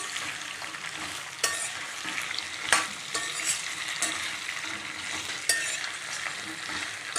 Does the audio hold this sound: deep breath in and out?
no